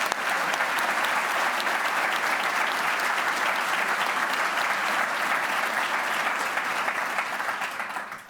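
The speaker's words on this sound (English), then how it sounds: "Eduardo, this is your applause." An audience at an award ceremony claps steadily for several seconds, a dense even wash of applause that holds level and then fades near the end.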